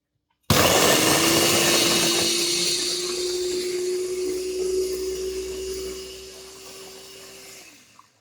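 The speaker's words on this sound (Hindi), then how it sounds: "अब हम इसका ब्लेंडर में एक पेस्ट तैयार करेंगे।" A kitchen blender grinds tomato, garlic and red chili with a little water into a paste, starting abruptly with a loud steady whirring motor hum that holds for several seconds, eases slightly, then cuts off.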